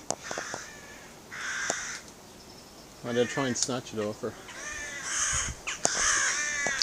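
Crows caw repeatedly while being fed outdoors, a flock calling in loud bursts near and far, with someone talking over them.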